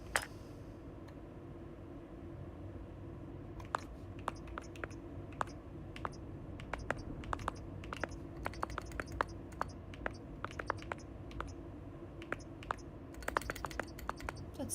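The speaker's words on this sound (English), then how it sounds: "It's a very satisfying typing sound." Soft, crisp keystrokes sound from a keyboard in Starfield, irregular bursts of clicks over a low steady hum, quiet and close with no talking.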